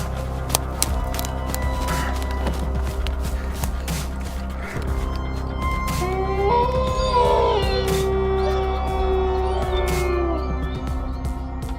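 A black cat in a dark village night scene lets out a drawn-out, wavering meow over a low, steady background hum, with no one talking.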